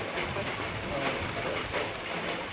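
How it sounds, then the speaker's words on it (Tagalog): Heavy rain pours steadily outdoors, a dense, loud, unbroken hiss with no pauses and no clear voices. "May ulan na eh."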